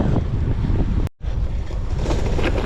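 Wind rushes steadily past while cycling, a loud continuous roar that cuts out briefly for a moment before returning.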